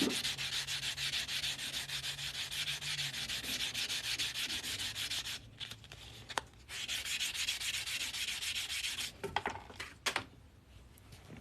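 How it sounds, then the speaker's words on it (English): Hand sanding the sharp, raised back edges of a coin ring keychain, a steady close abrasive rubbing that runs almost continuously, with short pauses and light metallic taps near the end. "We're just going to sand that down."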